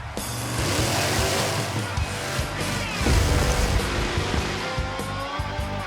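Grave Digger monster truck engine roaring loudly and steadily in an arena, a dense continuous growl with rising revs and crowd noise blended underneath.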